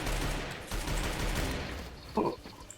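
Gunfire in a video game crackles in rapid, dense bursts, with busy, layered shots and a sharper single crack near the end, heard fairly close.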